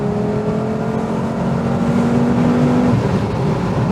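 A VW Golf VR5 with a naturally aspirated five-cylinder engine revs under acceleration on a twisty road, a steady, loud droning engine note with a slowly rising pitch heard from inside the car.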